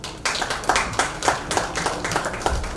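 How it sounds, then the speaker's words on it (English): An audience at a formal honoring ceremony claps in lively, fairly close applause, with individual hand claps standing out as a quick, uneven patter throughout. "a big round of applause for all of them"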